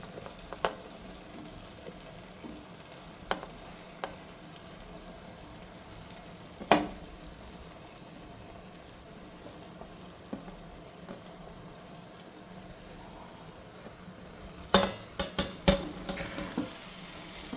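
Fried prawns are stirred into a biryani masala with coriander and mint, giving a low, even sizzle broken by a few sharp spoon clicks and scrapes, with a cluster of knocks near the end.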